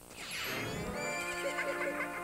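A horse whinnies in the video game Majora's Mask 3D, a single loud, close neigh that rises and then wavers in a fluttering trill, heard alone over faint game music.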